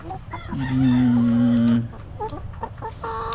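Farm chickens cluck and call close by, with one long drawn-out squawk followed by shorter broken clucks and scattered fowl noises.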